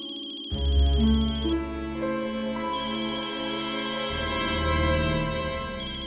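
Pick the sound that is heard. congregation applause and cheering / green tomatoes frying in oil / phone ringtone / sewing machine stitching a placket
phone ringtone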